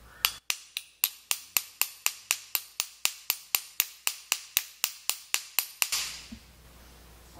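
A martelinho de ouro hammer is tested with about twenty sharp, evenly spaced metallic strikes in quick succession, loud and close, ending in a brief scraping clatter and quiet.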